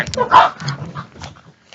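Dogs give short yips and barks, fairly close and mixed together over about a second, with a brief whimpering tail as they settle.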